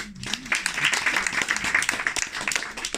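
A comedy show audience in Montpellier breaks into brief, lively applause, with bursts of clapping and scattered voices and laughter over roughly three seconds, close and fairly loud.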